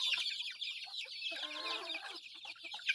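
Chickens cluck and chatter on a farm, several birds calling in quick overlapping bursts close by, with a brief rooster-like call mixed in and no talking.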